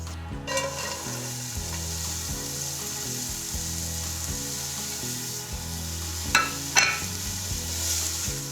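A steady close sizzle of onions and garlic frying in a pot, with a couple of brief stirring scrapes, under a low background hum.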